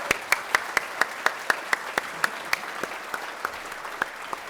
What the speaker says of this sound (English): so we should really give Aaron a huge round of applause.